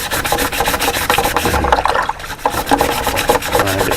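Car headlights are wet-sanded with 600 grit sandpaper, giving a rhythmic, close rasping scrub in repeated back-and-forth strokes with no voices.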